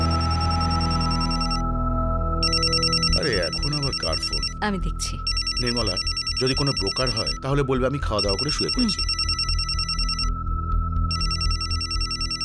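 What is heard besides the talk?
phone ringtone ringing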